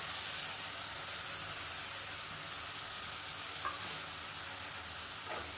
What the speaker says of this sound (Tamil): அந்த வெங்காயம் இஞ்சி பூண்டோட பச்சை வாசனை போகிற அளவுக்கு வதக்கிக்கலாம்